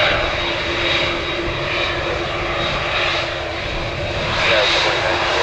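Jet airliner engines roar steadily and loudly during a takeoff from runway 35 left at Orlando International Airport on a windy day, a continuous broadband rumble that swells slightly near the end.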